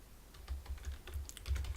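Quick, light keystrokes on a computer keyboard, close and fairly quiet, in an irregular run of taps while entering a name into the Unreal Engine 4 editor.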